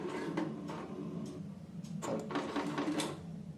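An HP Deskjet 2676 printer in its initial setup mode whirs and clicks as its internal mechanism moves, with irregular mechanical bursts and rattles at close range, no talking.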